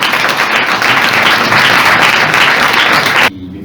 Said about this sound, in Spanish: le vamos a recibir con un aplauso fuerte